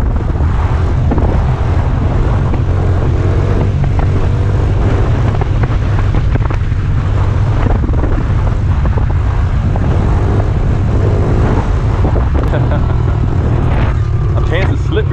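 Honda XR70 dirt bike engine droning steadily throughout, a constant low buzzing hum mixed with wind noise, close and loud, with a rider talking over it.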